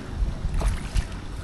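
Wind gusting around a small fishing boat near a dock, a steady low rumble of buffeting air and water slap with two stronger gusts, close to the microphone and with no talk.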